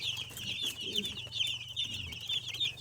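A batch of about fifty young chicks in a poultry shed, constant busy cheeping and peeping close by, with faint clucks and rustling underneath and no talk.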